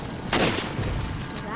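Gunfire in the Resident Evil 4 video game: a single loud, sharp shot with a ringing tail, followed by quieter game ambience and faint clicks, with no voice over the sound itself.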